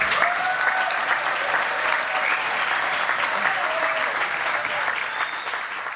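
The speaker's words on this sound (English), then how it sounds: "applaud loud and strong for our Vice President, Michael Pence" Loud, sustained crowd applause for Vice President Mike Pence during a visit in West Virginia, dense and continuous with faint voices mixed in, easing slightly at the end.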